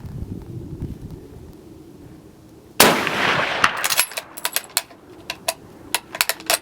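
Lee Enfield No. 4 Mk2 rifle firing at an outdoor range: one loud, close, sharp shot cracks out partway through, followed by a run of crisp metallic clicks and clacks from working the bolt.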